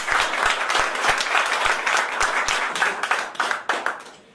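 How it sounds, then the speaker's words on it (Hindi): Audience applause at an MLM company business plan presentation: sustained dense clapping from a crowd, loud and steady, tapering off toward the end. "उसके लिए एक बार ताली चाहूंगा।"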